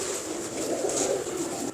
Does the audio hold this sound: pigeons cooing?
yes